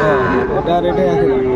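Sahiwal cattle at a livestock market, one animal giving a sustained close moo while people talk in the background.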